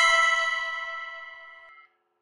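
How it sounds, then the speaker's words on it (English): A phone notification chime for a trading bot buy rings once, bright and bell-like, then fades smoothly over about two seconds into silence. "I get a notification on my phone."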